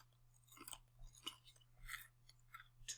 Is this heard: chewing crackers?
yes